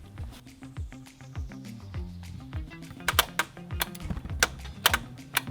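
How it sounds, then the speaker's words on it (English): A relay box under a school bus clicks in a rapid rhythmic series of sharp ticks, growing louder and more insistent partway through, over a low background hum. "I hear a relay box clicking."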